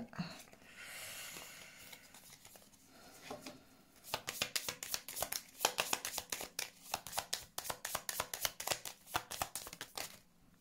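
Deck of oracle cards being shuffled by hand, a short soft rustle at first, then a long run of quick, crisp riffling flutters and slaps, close and fairly loud.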